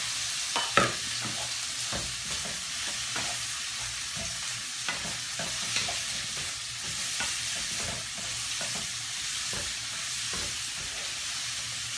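Sliced onions sauté in oil in a pan while a spoon stirs them, a steady sizzle broken by repeated scraping and tapping strokes, close by and without talk.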